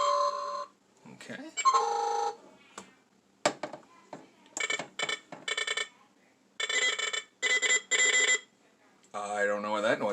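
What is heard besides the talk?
Star Trek Enterprise D bridge toy red alert sound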